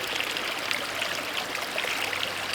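Water running out of a siphoned pipe on a ram pump setup, the siphon started with a drill pump: a continuous, close trickling and gurgling flow, bright and splashy, steady throughout with no talking.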